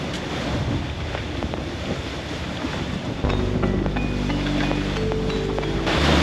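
Steady wind and choppy Atlantic sea waves off the coast near the mouth of a bay, heard from a sailboat tacking toward deeper water; a continuous rushing wash with wind buffeting the microphone, louder in the second half.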